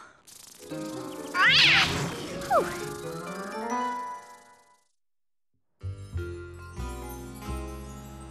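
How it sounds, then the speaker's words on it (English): A cartoon cat lets out a drawn-out, wavering meow with yowling rises, fairly loud and alone. A short silence follows, then light music begins. "Did you see the cat, Ludwig?"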